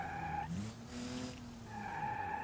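Tires skid and squeal as an Ibishu Claria wagon of roughly 285 horsepower slides in a driving video game, a short screech set between steady engine drone.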